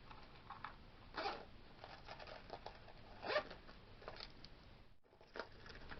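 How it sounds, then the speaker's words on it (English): A zipper on a purse is pulled open and closed a few times up close, producing short, quiet rasping bursts with soft handling noise between them. "I want this on the zipper pulls on my purse so I can open my zipper pulls easier."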